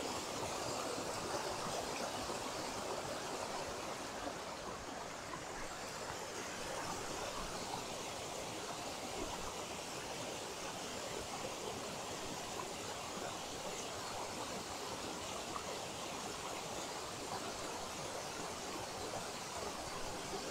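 A mountain stream in wilderness rushes steadily and continuously without pause, its broad hiss of flowing water close and even throughout, with no voices.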